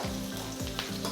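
Onions sauté in a kadai for salna, a dense continuous sizzle close up, broken by a few quick stirring scrapes; no voices.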